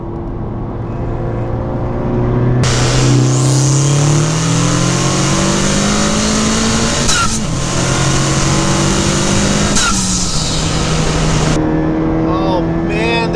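A turbocharged car fitted with an HKS turbo, PRL charge pipe kit and PRL high-volume intake accelerates hard. The engine roars loudly and close, its pitch climbing steadily through repeated revving sweeps with a few brief breaks between pulls.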